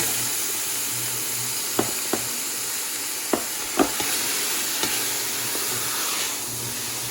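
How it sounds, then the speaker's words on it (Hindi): Beef mince browning in a pot for lasagna soup gives a steady close sizzle and hiss, broken by a handful of sharp scrapes and clicks from stirring at irregular moments. "अब आपने इसको भूनना है,"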